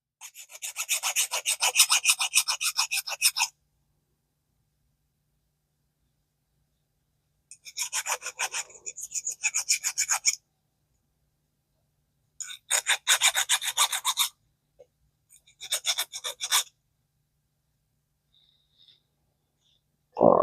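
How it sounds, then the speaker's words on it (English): A hand file rasps across metal while deburring a Zebco Cardinal 3 fishing reel part, in four bursts of steady back-and-forth strokes separated by pauses, close and fairly loud with no talking. "Deburr it."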